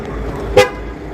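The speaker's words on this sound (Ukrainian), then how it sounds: "І машина блимне поворотниками і, здасть один сигнал." A Ford car gives a single short horn chirp as its alarm locks, one brief sharp toot heard close.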